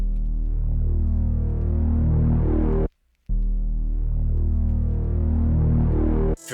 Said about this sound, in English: It's the growler moog bass from Omnisphere.